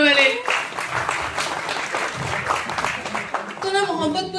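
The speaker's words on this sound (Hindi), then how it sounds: "एक बार जोरदार ताली बजा दो यार ऊपर वाले" An audience at a mushaira and kavi sammelan poetry event at IIT Delhi claps in a dense, moderately loud burst, with a voice briefly audible at the start and again as the applause fades near the end.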